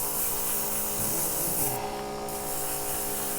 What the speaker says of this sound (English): Just going through the finer grits again here